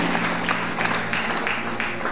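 A church congregation claps in praise to the Lord during worship, a steady roomful of hands beating in a loose rhythm with periodic swells, alongside a faint low musical hum underneath.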